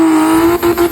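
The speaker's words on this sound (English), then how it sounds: "Beautiful Nissan GTR." A Nissan GT-R V-spec at an outdoor car meet drives off with a loud, close engine drone, a steady tone that dips briefly a few times as the driver works the throttle.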